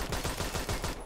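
Rapid, loud gunfire from an MSG90 rifle in the video game Phantom Forces, a dense string of closely spaced shots over about a second, heard alone with no talking.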